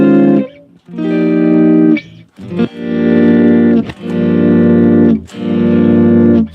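Electric guitar chords swelling in smoothly with no pick attack, shaped by an automatic volume-swell effect on a Strymon Mobius pedal; four rising sustained chords with short gaps between, loud and close.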